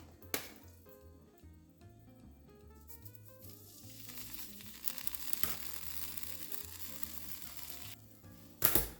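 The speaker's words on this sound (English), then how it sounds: "my Sauteed air fryer has preheated, so let's go ahead and put in our salmon" Salmon fillets going into a preheated air fryer, with a soft sizzle under quiet background music, a few sharp clicks and taps, and a louder clatter near the end.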